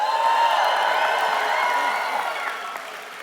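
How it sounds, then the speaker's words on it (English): Graduates and guests at an Athabasca University convocation cheer and applaud in a large indoor crowd, the loud clapping and shouts fading gradually toward the end. "Let's hear a big cheer."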